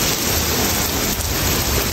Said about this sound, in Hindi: बारिश देखो यार इतनी तेज़ बारिश, इतनी बिजली कड़क रही, इतनी तेज़ बारिश